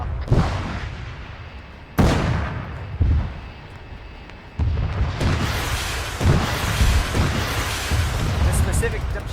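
A tank shell detonating in Arma 3 military combat during a mech PvP match: sharp booming impacts land at intervals, followed by a sustained rumbling roar, with someone talking over it.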